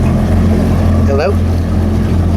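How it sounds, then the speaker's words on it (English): An older motorboat being put back on the water after sitting unused for years runs with a steady, loud engine drone throughout, close and unbroken, with a brief voice-like chirp near the middle. "And my boat is running great."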